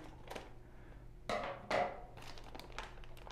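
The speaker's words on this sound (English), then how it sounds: "open one of the bags" Crinkly plastic bag rustles in a few short bursts as it is opened, two louder crackles in the middle, close to the microphone over a faint hum, during an aquarium setup.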